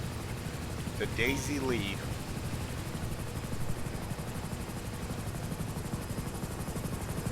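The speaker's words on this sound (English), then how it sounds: "Get up in the helicopter and we'll get him out of here." A helicopter in GTA 5 during an offshore medical evacuation, its steady rotor and engine drone filling the scene from start to finish while someone speaks briefly over it.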